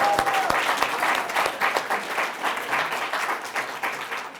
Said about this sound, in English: stand up and everyone clap for those folks, please